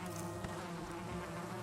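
Honey bees buzz steadily at a raised hive, a dense continuous hum of many wings close by with no other sounds.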